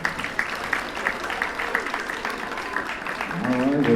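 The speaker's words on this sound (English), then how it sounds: "Give her a round of applause." Audience applause at a 3rd–4th grade school spelling bee: a steady wash of clapping from a crowd that fills the room, sustained throughout, with a voice starting to speak near the end.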